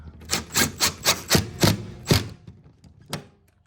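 A part being fastened down while a Tesla wall charger is installed, giving a run of sharp, evenly spaced knocks and taps, about eight in the first half, then a few scattered softer hits, close and alone.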